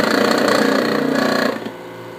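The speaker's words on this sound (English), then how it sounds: "The motor's bad." A faulty circulator pump motor in a multiplex building runs loud and close, with a steady rough hum and rapid rattling pulse, easing slightly in level near the end.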